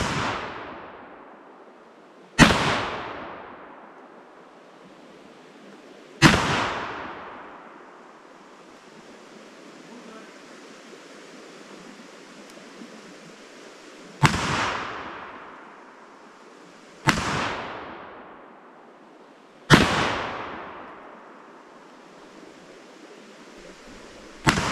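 Six 12-gauge shotgun slug shots fired at pumpkins outdoors, each a sharp loud crack with a long decaying echo, spaced a few seconds apart over steady wind noise.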